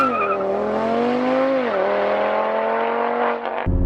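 A stock-turbo Audi RS3 with a Unitronic tune launches hard from 0 to 60 mph on street tires, its engine note climbing loud and close, dipping briefly at a gear change, then rising again before cutting off abruptly.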